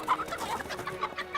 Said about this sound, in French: Elle est pas belle la petite poule?